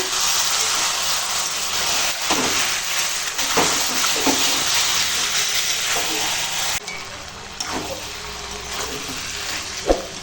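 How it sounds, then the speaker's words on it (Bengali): Mutton sautés with spices in a pan, a loud continuous sizzle and hiss with scraping stirs throughout, softening near the end. "দেখো এখন মাংসটা কষাচ্ছি"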